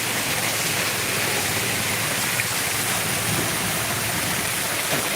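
Heavy monsoon rain of the first Sawan downpour pours steadily at a Punjabi home, a dense, even hiss throughout with no voices.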